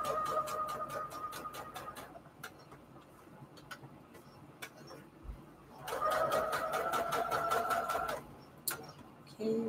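A sewing machine stitches fabric onto index cards in two rapid bursts of needle ticks, with a quieter pause between them and a lone sharp tick near the end; a voice speaks during the pause.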